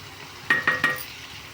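Beaten eggs poured into a pan of cooked green beans for an egg poriyal, three quick metallic taps and a soft sizzle over a quiet kitchen background.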